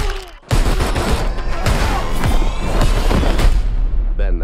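Gunfire in a dubbed trailer for Fast X: dense bursts of shots and heavy booms rolling continuously after a brief quiet opening, loud and close, with cinematic impacts layered together.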